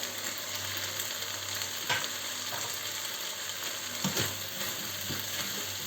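Fresh chopped tomato and peppers fry in a wok with a steady, loud sizzling hiss and a few louder crackles as the pieces are stirred.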